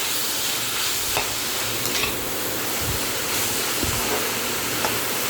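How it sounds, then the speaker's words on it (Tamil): Onions sautéing in a pan for a butter paneer green peas masala, a continuous dense frying hiss with occasional soft scraping stirs and low thumps; no speech. "இப்போ நல்லா வெங்காயத்தை வதக்கி விட்டுக்கோங்க."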